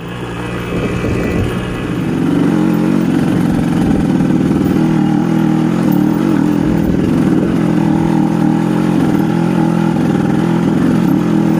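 A clutch-equipped motorcycle engine drones steadily and loudly while being ridden along a rough off-road trail, with a continuous mid-pitched hum and slight revving throughout.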